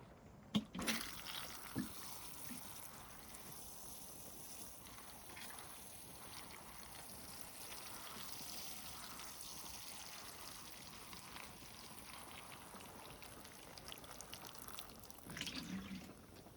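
Freshly potted apple tree and dawn redwood bonsai cuttings being watered: a steady, close splash and patter of water pouring onto soil runs throughout, with no talking.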